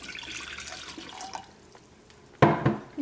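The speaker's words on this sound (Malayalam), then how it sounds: "ഇതിലേക്ക് 1 കപ്പ് വെള്ളം ചേർക്കാം." Water splashes briefly into a pan of dates near the end, a short gurgling pour after quieter kitchen clatter.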